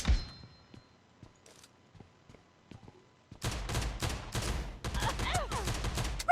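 Pistol gunfire from a Desert Eagle in PUBG Mobile: a few faint isolated shots early, then a loud dense burst of rapid shots over sustained game noise in the second half.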